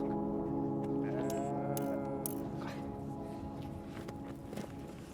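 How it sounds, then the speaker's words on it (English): Sheep belonging to Kyrgyz nomadic herders in the Afghan Pamir bleat in a mountain valley, several overlapping calls over a steady background with faint shuffling steps. "these sheep are their only source of wealth"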